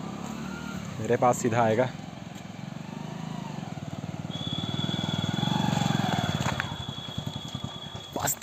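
A motorcycle pulls up close and sits idling with a steady low engine throb on a hill road in the Bardaha valley, Madhya Pradesh, while someone speaks briefly over it.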